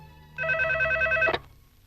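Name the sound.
telephone ringing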